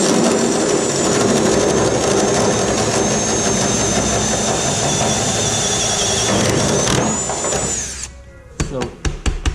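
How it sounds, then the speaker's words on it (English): An old Harbor Freight Bauer keyhole saw cuts metal at low speed on a Porsche 914 LS3 project, a loud rasping buzz for about eight seconds before stopping, followed by a few sharp clanks. "I guess you call it a keyhole saw in metal. And my old Harbor Freight Bauer thing's pretty good. So low speed."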